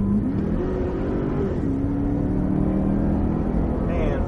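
A Cadillac CTS-V on the Autobahn Country Club track in Joliet accelerates out of a corner, its engine droning steady and loud inside the car as the pitch climbs gradually, then holds.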